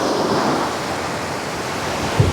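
Sea waves wash steadily onto a beach as a continuous broadband rush with no distinct breaks, with a faint low thump near the end and no voices.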